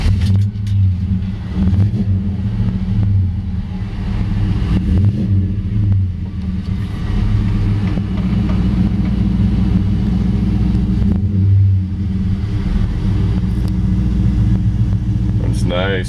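1957 Chevy 210 with an LS-1 V8 swap running, with a deep, steady low idle rumble and slight rises in revs, close and continuous throughout.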